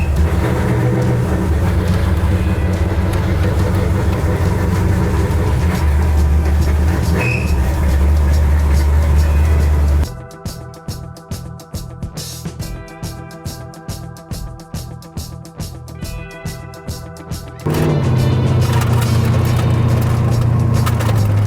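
Car driving on the road after an MSD Pro Billet distributor install, with a steady engine and road drone throughout, then a stretch of pulsing, rhythmic mechanical thumps in the middle before the continuous drone returns.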